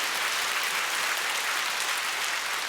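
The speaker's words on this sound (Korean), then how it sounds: "박수로 하나님께 영광입니다" A church congregation at a women's mission association retreat claps in unison, a thick, even roar of applause sustained for a few seconds, filling the hall with no speech over it.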